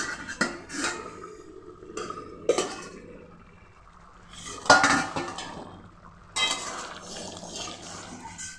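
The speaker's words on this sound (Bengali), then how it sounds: "এখন ঢাকা তুলে নিচ্ছি" Pot lid lifted off while tomato chutney cooks, scattered metallic clinks and scrapes of cookware at irregular intervals, close and moderate with quiet gaps, no voices.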